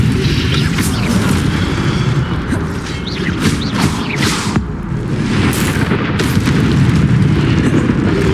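A fiery Incendio spell cast in Hogwarts Legacy video game, a loud, continuous roaring whoosh of flame with crackling bursts throughout, dense and close.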